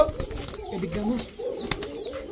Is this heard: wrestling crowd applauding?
no